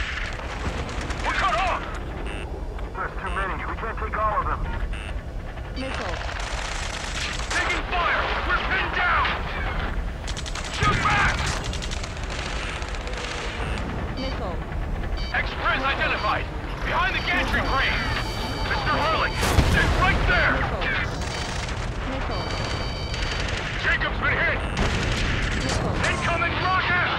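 Gunfire and explosions from an Ace Combat 7: Skies Unknown battle rumble almost without pause, with repeated heavy booms and a sharp blast near the twenty-second mark, all beneath frantic shouted radio chatter throughout.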